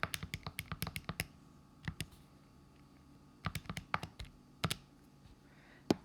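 Quick bursts of small plastic key presses as numbers are punched into a calculator, near and crisp, in clustered runs with short pauses between them and no voices.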